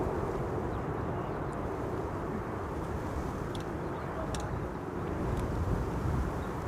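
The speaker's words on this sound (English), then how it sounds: "it's pretty windy here." Strong wind buffeting the microphone at a plane-spotting spot at Amsterdam Schiphol Airport, a steady loud rumbling roar that continues throughout with occasional faint clicks and no clear speech.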